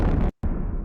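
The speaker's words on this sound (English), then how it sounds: "An explosion." An explosion sound effect: two loud, dense, low booming bursts split by a brief moment of silence, close and alone with no talk.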